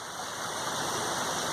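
A creek flows steadily where it begins to spread out near a soccer field, a constant broadband rushing and babbling of water, close and even throughout with no talk.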